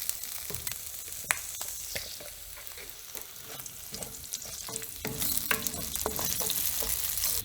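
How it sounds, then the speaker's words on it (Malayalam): Onion being stir-fried in cooking oil in a pan still coated with beef flavour, making a steady close sizzle broken by sharp scraping and stirring clicks, with the frying growing louder and busier toward the end. "ഇനി നമുക്ക് ആ സെയിം പാനിൽ തന്നെ, ബീഫിൻ്റെ ഫ്ലേവറുള്ള പാനിൽ തന്നെ സവാളയൊന്ന് സ്റ്റിർ ഫ്രൈ ചെയ്തെടുക്കാം."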